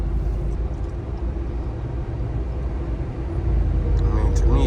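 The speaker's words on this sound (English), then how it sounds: "I mean, to me, it sounds like a truck." A RAM TRX pickup on mud grappler tires cruises along a parkway, its low engine and tire rumble droning continuously and swelling slightly louder toward the end, with no voices.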